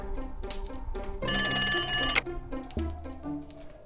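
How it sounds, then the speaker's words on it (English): A telephone bell rings indoors in one loud burst of about a second, set among soft clunks and background sounds from a quiet room. "the phone's ringing"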